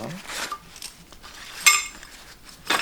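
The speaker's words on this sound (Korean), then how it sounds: "팩이랑 망치" Metal tent pegs and a hammer clink together as they are packed for a three-season backpacking setup with a Thule Guidepost 75 pack: a few sharp, bright metallic clinks scattered between soft handling rustles, close by.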